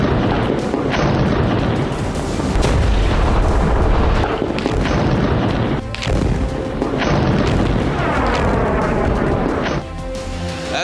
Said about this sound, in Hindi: गाजा पर बम बरस रहे, गाजा की धरती थर्रा रही।